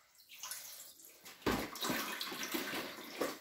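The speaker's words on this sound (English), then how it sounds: "So what's happening now is I'm mopping the floor" Water being mopped off a floor after spraying out while a circulation pump is removed from an oil furnace, a close, steady wet swishing and splashing with sharper slaps near the middle and end.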